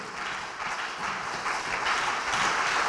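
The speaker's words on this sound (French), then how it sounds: "Acclame très très fort Jésus" A church congregation cheers and applauds for Jesus during worship, with sustained, dense clapping and crowd noise at moderate loudness.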